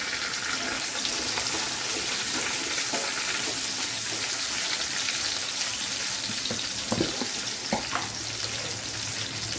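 Small shallots frying in a pan for Chettinad chicken gravy, a loud, dense, continuous hiss and sizzle with a few brief knocks of a spoon near the end.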